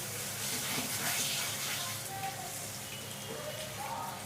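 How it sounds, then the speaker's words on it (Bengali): Water poured into a pan of sizzling, well-fried spice paste for a Bengali fish-roe fritter dish, a dense, rain-like crackling hiss that runs steadily throughout at close range. "এবারে আমি জল দিয়ে দিচ্ছি।"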